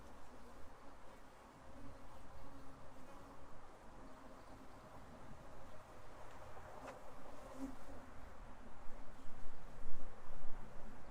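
Gentle honey bees hum in a steady, dense drone around an open top bar hive, close and continuous, swelling slightly louder toward the end.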